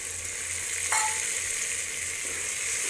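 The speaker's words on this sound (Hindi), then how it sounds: "अब हम इसके अंदर टमाटर, लहसुन, अदरक, प्याज का पेस्ट ऐड करेंगे जी" Tomato, garlic, ginger and onion paste sizzles steadily in hot oil with browned onions, a continuous close frying hiss with a brief louder crackle near the start and no voices.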